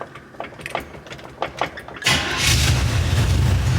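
An old car's engine is cranked over, with a few uneven clunks and clicks before the engine catches and settles into a loud, steady rumble that runs to the end.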